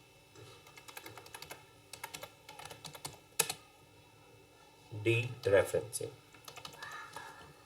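Quick bursts of clicky keystrokes on a computer keyboard, typed in short rapid runs with pauses, while someone speaks briefly over the typing.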